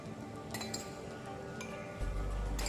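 A spoon clinks against a drinking glass while water is added for a school diffusion and osmosis experiment, a few light, faint chinks spread over quiet room tone.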